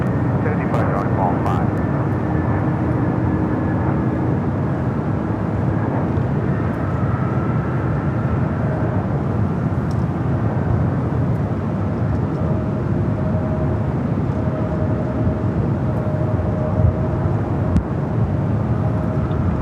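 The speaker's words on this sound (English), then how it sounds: "Next arrival, American Airlines flight 2789 at A321." American Airlines Airbus A321 arriving at LAX from Phoenix, a steady broadband engine roar that stays loud throughout with a radio voice speaking over it.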